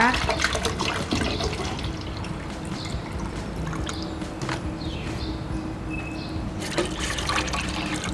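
About 500 ml of water is poured into a pot on a lit stove, giving a steady splashing, running-water sound that continues close by, with light clinks around it.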